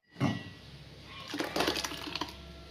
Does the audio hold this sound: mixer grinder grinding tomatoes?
yes